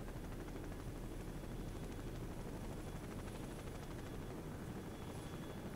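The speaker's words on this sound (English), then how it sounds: "Did I really need to sit here and see that helicopter fly away that long?" Helicopter in Call of Duty 4 flying away, a steady whirring rotor drone with dense broadband rumble, even and continuous, no voices.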